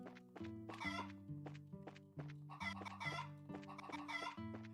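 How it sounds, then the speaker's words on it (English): Chickens clucking in the video game Trails in the Sky, repeated short clucks and squawks in quick bursts over a looping musical backing, moderately loud and close. "How many times can you get a chicken sound?"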